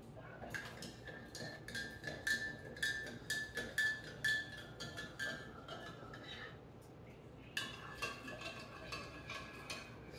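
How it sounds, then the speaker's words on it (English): A utensil stirring food in a pot, with a run of light, irregular clinks and scrapes against the metal, close and fairly quiet. "Stirring."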